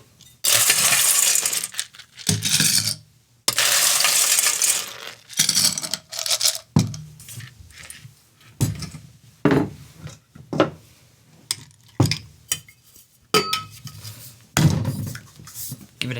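Ice cubes dropped into a cocktail glass while mixing a Mongolian Mother F'er cocktail, heard as a run of sharp, close clinking clatters in separate bursts with brief pauses between them.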